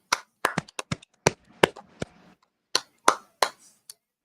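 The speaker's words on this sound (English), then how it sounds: "Clap it up." Bare hands clap sharply in an irregular run of about a dozen close, distinct claps, with short quiet gaps and brief murmuring between them.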